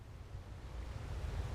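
Ocean waves in a ship simulator game at sea during a cargo and fuel replenishment mission, a faint steady wash of surf and wind noise with no voices, rising slightly over a short stretch.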